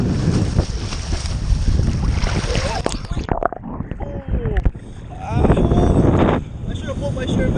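Strong, cold wind at a beach roars and buffets the microphone in a steady loud rush, dropping briefly midway before gusting back; voices are faintly present.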